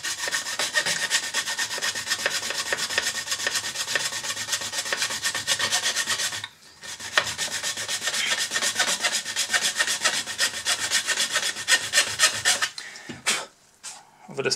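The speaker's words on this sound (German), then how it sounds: "Ich säge jetzt hier einmal einen geraden Schnitt hier vorne." A hand saw rasps back and forth through plastic in a fast, steady rhythm, close by, pausing briefly once before resuming and trailing off in short strokes.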